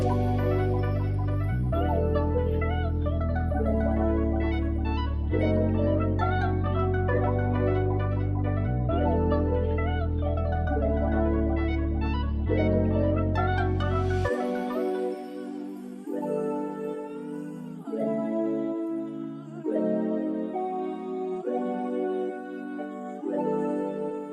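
A looped smooth R&B beat, pitched up one octave and sped from 63 to 67 BPM, plays steadily with heavy low bass and bright keys; midway the bass drops out and the melody carries on alone, pitched high.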